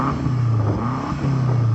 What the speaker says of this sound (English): so I'm going to start off by revving up this M8.